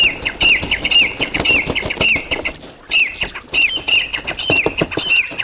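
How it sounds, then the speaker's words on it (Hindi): Caged birds released in Karachi, a burst of flapping wings with repeated bright chirps and squawks recurring every half second or so, close and busy throughout. "इनकी आवाज़ सुने चहचहाने की, माशाल्लाह ज़बरदस्त।"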